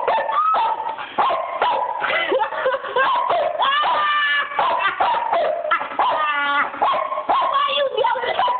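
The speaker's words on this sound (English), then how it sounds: "I have never seen a dog bark at a road before" A dog barks repeatedly at a road in a loud, rapid run of yelps and whiny, howling barks, close to the microphone, with people's voices mixed in among the barking.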